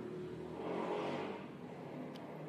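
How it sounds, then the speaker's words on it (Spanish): A motorbike engine hums and whirs steadily while riding, swelling slightly midway then settling, faint and continuous. "Voy en la moto."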